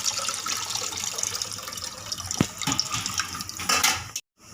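Tamarind water is poured into a ground coconut and onion paste, giving a close, steady splashing trickle of liquid that stops abruptly at the end.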